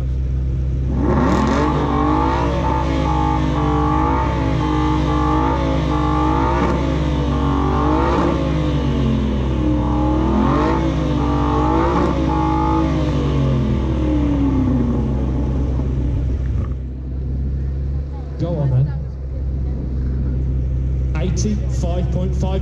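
A 430-horsepower 4.7-litre V8 in an Aston Martin Vantage V8 AMR revs loudly and repeatedly, rising and falling in long sweeps over a steady low idle rumble, then dropping back to idle near the end.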